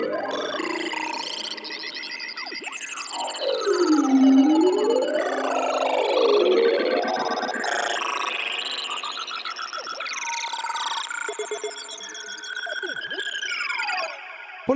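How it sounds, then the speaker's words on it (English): Glitchy synth atmosphere patch built in Bitwig Polygrid and run through effects and recorders, with swooping chirping pitch sweeps and stuttering bleeps over a steady hazy bed, moderately loud and alone. "it's going through some effects and then some recorders to create a glitch effect."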